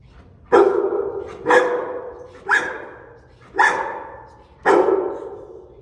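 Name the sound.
dog barking fiercely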